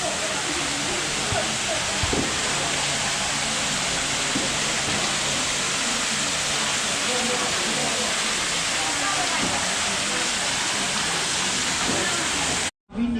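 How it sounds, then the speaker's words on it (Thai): Steady broadband rushing of a waterfall at a temple in Kalasin, Thailand, continuous and fairly loud, with faint voices and scattered knocks beneath the roar. "มีน้ำตกด้วย"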